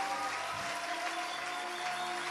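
A church congregation applauds and cheers in praise of the Holy Spirit, a dense, steady wash of clapping that fills the room evenly and continuously, with a faint sustained tone underneath.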